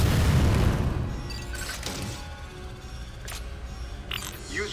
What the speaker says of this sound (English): Samus, blast the eruption port to get the magma flowing.